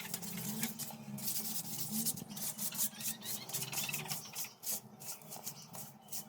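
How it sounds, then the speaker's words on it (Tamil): Dry scraped paint particles are swept up inside a drinking water tank, a continuous scratchy brushing with rhythmic strokes, close and fairly loud, with no talking. "இப்போ தேய்த்தெடுக்கப்பட்ட துகள்களை பெருக்கி வெளியே எடுத்துடலாம்"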